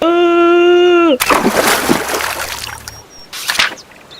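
A loud splash as a turtle is thrown into a river in an animated Filipino folk tale, with spray and sloshing water that die away afterward. A rising synthetic whistle comes before it.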